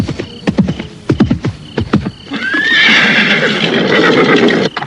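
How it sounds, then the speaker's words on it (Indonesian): A horse whinnies loudly and close by, a long shrill neigh that follows a run of rhythmic hoofbeats clip-clopping in the foreground. "Aku mendengar kuda."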